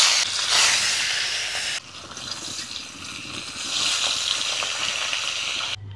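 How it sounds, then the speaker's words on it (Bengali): A rohu fish head fries in mustard oil in a kadai, giving a steady sizzling hiss. The hiss dips briefly, then returns bright and continuous, with no voices over it. "প্রথমে রুই মাছের মাথাটা ভেজে নেব।"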